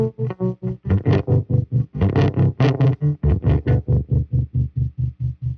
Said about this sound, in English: I've got this really great tremolo that built into this amp that I love using.